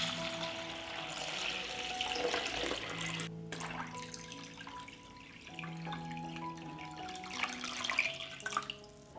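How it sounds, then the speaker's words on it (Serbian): Water streams into a cooking pot lined with a cloth and holding glass jars, filling it toward lid height; a continuous splashing pour with shifting ringing tones as the level rises, with no talk. "Sipat ću vodu do visine poklopca."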